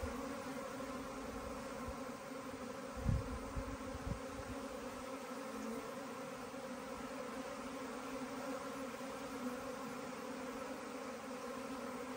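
A honeybee swarm returned to a beekeeper's hive gives off a continuous, even buzzing hum, close and steady throughout, with a few brief low thumps early on and no talk.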